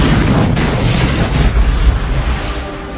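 A ship explodes in a loud, sustained roar with deep rumbling and crackling debris, filling the whole clip before easing slightly toward the end.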